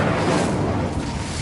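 Incendio fire spell cast in Hogwarts Legacy, a dense roaring burst of flame that holds steady and loud for over a second with no speech over it.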